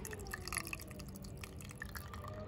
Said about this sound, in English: it's dechlorinated Brita filtered water. Should just provide a good little top up.